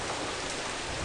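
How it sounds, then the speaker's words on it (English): Rain in the video game BattleBlock Theater, a dense, steady hiss of falling water that stays even and unbroken for about a second, with no voices. "Maybe our friends came in here to take shelter from the rain."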